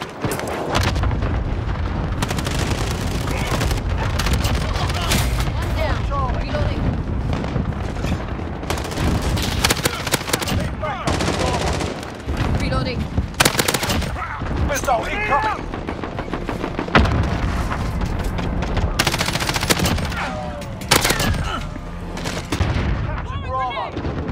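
Cluster strike explosions and heavy gunfire from a Call of Duty match, with sustained loud rattling automatic fire and booming blasts packed tightly together throughout, as in-game voice callouts sound over the din.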